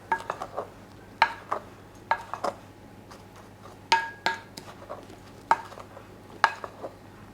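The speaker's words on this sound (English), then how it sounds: "just to evenly mix together those dry ingredients" Dry muffin ingredients, including brown sugar, stirred together in a bowl: irregular close clinks and light scrapes of a utensil against the bowl over a faint steady hum, with no talking.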